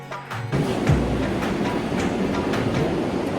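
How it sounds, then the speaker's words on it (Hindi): Train at Haridwar railway station, a steady rumbling rail roar with faint clicking and metallic squeaks, fairly close and continuous after a brief quieter start. "ये स्टेशन देख लो, हरिद्वार का स्टेशन है, और बस हम अपनी ट्रेन का इंतज़ार कर रहे हैं कब आएगी"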